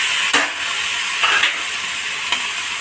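Tomatoes being added to diced potatoes and onions frying in a pan for an aloo matar curry, giving a steady broadband sizzle with a few louder stirring scrapes spaced through it, close and without talk.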